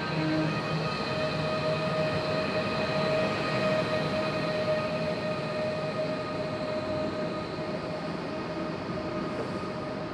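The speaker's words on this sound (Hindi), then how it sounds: "आप भी देखिएगा कि बुलेट ट्रेन किस तरीके से निकलती है।" A high-speed bullet train on the Samarkand to Tashkent line departing, with a steady, loud rumble and a sustained high electric whine that hold level throughout. No voices.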